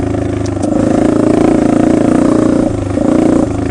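Air-cooled, fuel-injected 2020 Honda CRF250F dirt bike engine revving close up, a loud steady single-cylinder drone with rhythmic throttle blips and a brief dip before climbing again.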